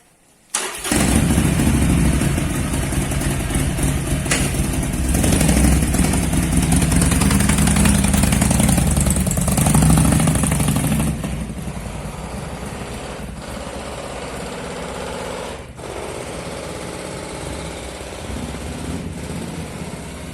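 A motorcycle with a modified, cut-open exhaust pipe fires up loudly and runs with a raspy, rumbling roar for about ten seconds, then drops to a quieter, steady engine drone as it moves away.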